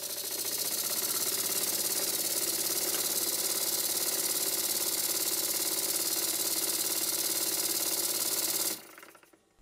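An old Stuart S50 model steam engine runs steadily with a fast, even mechanical chuffing whir that holds constant and close, then cuts off abruptly near the end.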